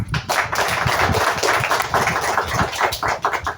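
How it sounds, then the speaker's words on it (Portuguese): Hand clapping at an outdoor community event in Sento Sé, Bahia, a dense, steady burst of many palms striking together, fairly loud and continuous throughout with no talk over it. "Salva de palmas."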